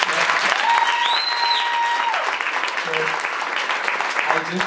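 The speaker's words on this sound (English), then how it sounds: "I just remembered another clap for Tshifhiwa." Audience clapping at a pitching competition grand finale, steady applause from a crowd with music tones and a voice over it.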